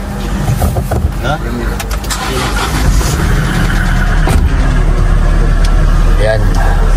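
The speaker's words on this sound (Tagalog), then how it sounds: "painitin muna natin yung makina" A boat's engine idles loudly while warming up before a trip, a close, heavy low rumble running steadily under people talking nearby, with clattering and a slight rise in level partway through.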